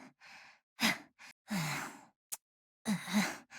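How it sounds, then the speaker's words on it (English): Rosaria, a Genshin Impact character, lets out a series of breathy, strained moans and sighs while climbing in the Japanese voice track, coming in short bursts with gaps between them, close and clear with no other sound. "Did she just moan in disapproval?"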